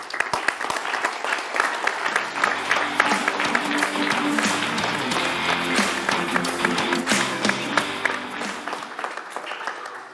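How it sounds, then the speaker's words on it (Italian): Studio audience applause in a sports television studio, a steady burst of many hands clapping that swells and holds for about ten seconds before thinning slightly at the end, with faint voices underneath. "Sì, un bel applauso a Manuel Botto."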